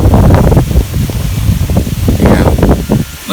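Gusty wind from the remnants of Hurricane Helene buffeting the microphone, producing loud, uneven rumbling bursts and flutters that swell and ease throughout.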